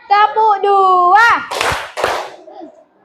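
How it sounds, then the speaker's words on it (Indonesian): A classroom of children claps in a pattern, with a few sharp, loud bursts of clapping following a sustained speaking voice. "Dengan tepuk berpola namanya"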